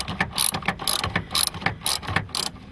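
A wrench ratchets in quick uneven bursts of gritty clicks, turning and pausing as a stiff, rusty bolt loosens during a battery replacement on a 2012 Kia Soul, close up.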